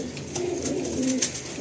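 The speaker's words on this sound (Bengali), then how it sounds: "এটা আন্ধ্রা পায়রা।" Andhra pigeon giving low, rolling coos in a couple of drawn-out phrases, close and moderately loud, set against faint outdoor background noise without speech.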